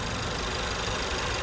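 A 2015 VW Jetta's 1.8-litre turbo engine idles in a steady, even hum, close and continuous for a brief moment with no talk.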